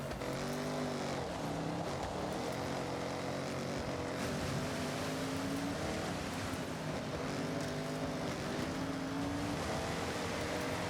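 A car engine in the racing game Forza Horizon 6 revs and climbs through gears in a steady droning whine, rising and falling pitch repeatedly, near and continuous with no talking.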